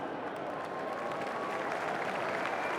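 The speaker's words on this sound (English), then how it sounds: "Big round of applause for Peel." Crowd applause for Peel Thunder at the WAFL 2023 Grand Final post-game presentation, a steady, continuous wash of clapping at moderate distance with no talk over it.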